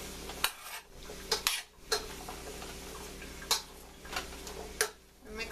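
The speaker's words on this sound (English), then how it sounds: "I'm going to add the potatoes, carrots, and rutabagas" Chunks of potato, carrot and rutabaga drop into a pot of softened onions for a salmon cobbler, with a series of sharp clattering knocks and scrapes against the pot spread over a low steady hum.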